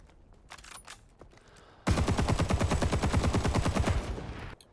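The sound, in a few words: machine gun firing in the video game Rising Storm 2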